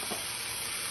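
Potato dropped into a pan of caramelized onions, giving a brief, steady sizzle and hiss of frying at close range, with no voices.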